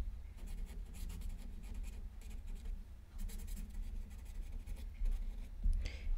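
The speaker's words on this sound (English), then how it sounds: "I'm gonna turn it over and I'm gonna write." Pen writing on the back of a small mixed media art piece, a quiet close scratching in short strokes with brief pauses, ending in a slightly louder scrape.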